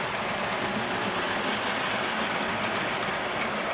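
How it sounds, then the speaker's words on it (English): A model railway B17 locomotive hauls a freight train along the track, producing a continuous, close rumbling roll with faint rhythmic clicking of wheels over rails. "Here comes the B17 with my new freight train."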